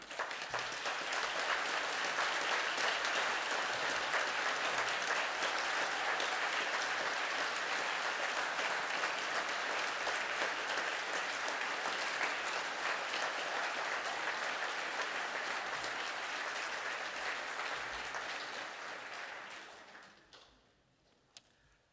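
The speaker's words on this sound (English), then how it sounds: "Can the class now please stand for the round of applause?" A sustained round of applause from a seated graduating class and audience in a hall at a graduation ceremony, loud and steady for about eighteen seconds before tapering off to quiet.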